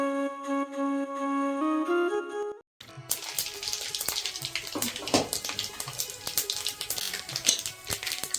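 Running water pours and splashes steadily in the kitchen after a brief musical tone ends, fairly close and continuous.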